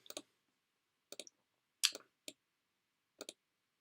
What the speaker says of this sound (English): these three dots here, you can click on those